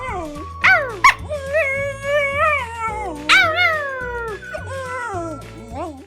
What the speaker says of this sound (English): is a Cavachon, which is a mix between a King Charles Cavalier and a Bichon